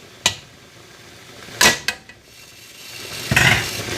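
Several sharp clatters and scrapes as pieces of food are thrown into a cooking pot for vegan boxed mac and cheese, with a spoon knocking against the metal; three distinct bursts spaced over a few seconds, close and fairly loud.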